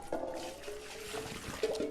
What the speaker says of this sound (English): I'll just pour off the water.